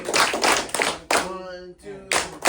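A group claps hands together in a steady rhythm at a school session, several broadband bursts in quick succession, with a voice calling out between the claps.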